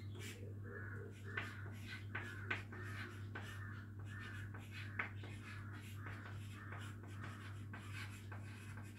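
Someone writes out a maths solution by hand. Soft, scratchy strokes come in short irregular bursts, close and fairly quiet over a steady low electrical hum.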